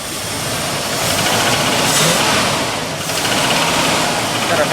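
Ford F350 cherry picker truck engine idling with a light valve tap, a busy continuous clatter close to the microphone that swells and dips slightly.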